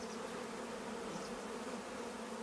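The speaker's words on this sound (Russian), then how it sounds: "Пчела полазит в этот улей, успокоится." Dense, steady buzzing of many honey bees swarming around a hive after a robbing raid in September, loud and continuous with no voices or pauses.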